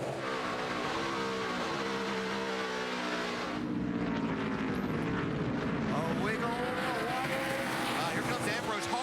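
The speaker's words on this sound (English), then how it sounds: "Here comes Ambrose hard in the throttle" NASCAR Sprint Cup race cars roar around the track, loud engine tones sweeping past and shifting pitch, with excited race commentary over the noise.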